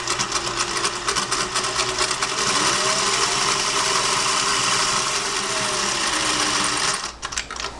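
A late-1950s Singer 401a sewing machine runs at a steady, smooth pace, a close whirring motor hum with a fast mechanical patter lasting several seconds before it stops, followed by a few light clicks.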